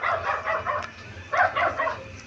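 A nearby dog barks in two quick bursts of sharp yaps separated by a brief pause.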